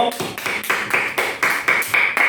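A short burst of applause from a small church congregation at a Sunday service, with quick uneven claps overlapping and sustained at a steady level, no voices.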